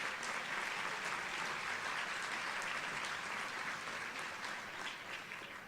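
Steady, sustained applause from a large crowd at a luncheon, a dense wash of clapping that holds evenly throughout and heard from some distance.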